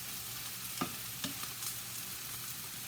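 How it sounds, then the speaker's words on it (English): Spinach with raspberry vinaigrette is stirred in a hot pan, giving a steady, soft sizzle with a few scraping strokes of the utensil, heard close up with no talking. "And I'm going to add another tablespoon of spinach, raspberry vinaigrette. Mix this in."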